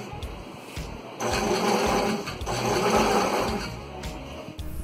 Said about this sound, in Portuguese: já tá quase finalizando aí essa parte da costura